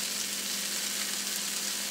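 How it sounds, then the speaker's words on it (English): Shrimp patties frying in a cast iron frying pan give off a steady, even sizzle that holds without a break for the whole stretch, with nothing else heard. "just continue letting it fry in your cast iron frying pan or your skillet"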